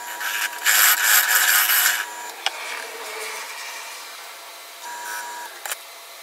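A woodturning lathe tool scrapes and rubs against a spinning live-edge wood bowl as its outside profile is shaped. A loud burst of cutting comes first, then a softer steady hiss with a few sharp ticks, and no talking.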